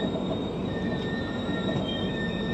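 The 22317 Humsafar Express brakes to a stop at a station, its wheels letting out sustained high metallic squeals over a steady rumble of rolling stock, close and constant throughout.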